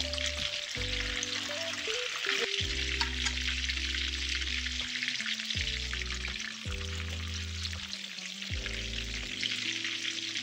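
Brinjal slices frying in oil hiss softly and steadily in the background while music plays over them, and no one speaks.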